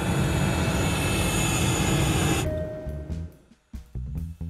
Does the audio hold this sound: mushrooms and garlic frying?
no